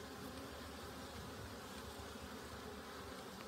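A dense, continuous buzzing of many honey bees at an apiary fills the air, steady and fairly faint, with no voices.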